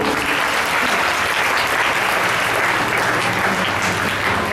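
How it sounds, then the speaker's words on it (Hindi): Loud, steady applause from a crowd at a high school anniversary celebration in Ahmednagar, a dense wash of clapping that holds at an even level with no voices over it. "इसके लिए एक बार जोरदार तालियां हो जाए।"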